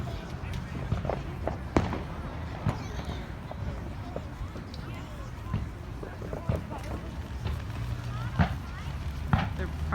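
Private fireworks pop and crackle at scattered intervals during a July 4th night, with sharp distant bursts over a steady low rumble and people talking throughout.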